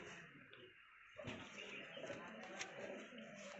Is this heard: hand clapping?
no